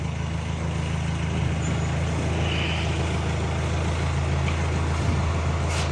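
A car nicknamed Tarzan sits with its engine idling, giving a steady, close, droning hum that holds an even level throughout, with no speech.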